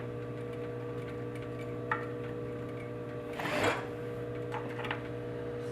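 A sewing machine runs an edge stitch down a garment's fly front toward the notch: a steady, close motor hum with a brief louder burst of stitching partway through.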